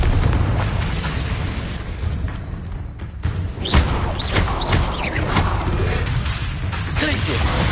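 Spell explosions and fiery bursts from Confringo and Incendio casting in the video game Hogwarts Legacy, booming hits and whooshes layered over continuous battle noise and a voice shouting.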